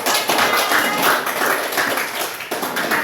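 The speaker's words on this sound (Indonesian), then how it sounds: "berikan aplaus untuk kelompok 3" A classroom group applauds group 3, dense continuous clapping from many hands, loud and close, lasting about three seconds.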